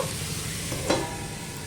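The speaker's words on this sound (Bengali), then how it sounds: "এবার আমি একটু ঢাকা দিয়ে দিয়েই ভেজে নেব" Vegetables for a milky Bengali shukto fry in a covered pan on a medium flame, a steady low sizzle with one short stirring scrape partway through, no talking.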